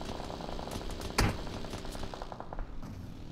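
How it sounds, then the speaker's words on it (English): Enemy gunfire from a hill in a battle royale shooter game: a single sharp nearby shot stands out, with faint rapid distant shots around it under a steady engine hum. "they're shooting from the hill"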